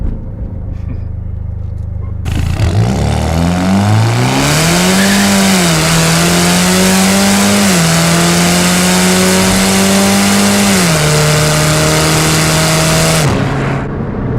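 A 2008 Saturn Sky Redline roars into hard acceleration after a quiet idle, its engine climbing through several gears with brief dips at each shift, loud and close before cutting off abruptly.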